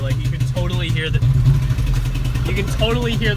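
A motorcycle engine with rod knock idles after a repair attempt, a steady low rumble close by with people talking over it.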